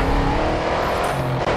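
A Dodge Challenger race car in the video game Grid 2 gives a loud, steady engine roar under acceleration, close and continuous, with no voices.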